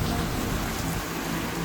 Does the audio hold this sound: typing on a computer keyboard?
no